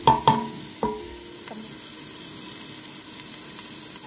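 Ground candlenut spice paste stir-fried in a hot pan gives a steady close sizzle, opened by a few sharp clinks of a utensil against the pan, with no voices.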